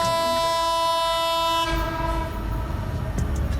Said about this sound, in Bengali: চিত্রা আমাদেরকে ক্রসিং করে গেল খুলনা ট্রেন সম্ভবত খুলনা থেকে ঢাকার দিকে যাচ্ছে